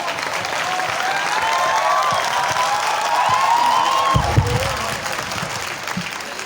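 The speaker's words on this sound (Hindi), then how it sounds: "एक बार जोरदार तालियां उन बच्चों के लिए।" An audience claps steadily for a junior school students' play, a dense continuous patter of applause from a crowd with some voices and cheers mixed in, sustained throughout and fairly loud.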